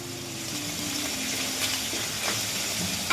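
Curry leaves dropped into hot oil alongside green chilli and ginger while cooking vermicelli upma, a continuous close hiss and crackle of sizzling with a faint tonal hum beneath.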